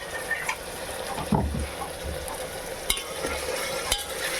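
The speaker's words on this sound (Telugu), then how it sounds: "ఇప్పుడు అల్లం వెల్లుల్లి పేస్ట్ వేసుకోవాలండి ఒక టూ స్పూన్స్ వరకు వేసుకోవాలి" Ginger garlic paste fries in a pan for mutton keema curry, a steady close sizzle with scraping stirs and a few louder knocks of the spoon.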